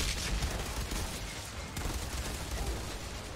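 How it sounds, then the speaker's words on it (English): Enemies in the shooter game Outriders fire at the player in a steady barrage of rapid gunshots, dense and continuous, at moderate volume with no talk over it. "Come on, all of you be idiots and keep shooting me."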